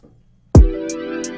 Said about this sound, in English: Next thing I added was this hi-hat and this kick.